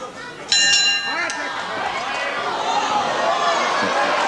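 A wrestling round bell at a 1984 British wrestling bout clangs several times in quick succession, then gives way to crowd noise and a commentator talking.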